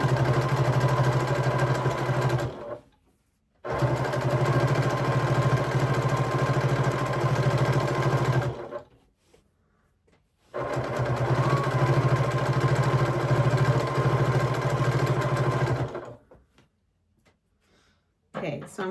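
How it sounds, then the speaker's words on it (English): Home sewing machine stitching a fabric-scrap jelly roll rug, back tacking in two sustained whirring runs of about six seconds each, separated by short pauses, loud and close. "Back tack. We're back tacking now."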